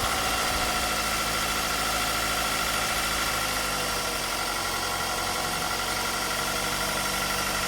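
Car engine idling after an automatic remote start, a steady loud mid-pitched hum with faint vibration and no voices.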